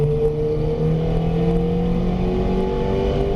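A Ferrari F430 accelerating hard in fourth gear on a track, its engine a loud, steady drone with tones rising gradually, heard close from the cockpit without any voices.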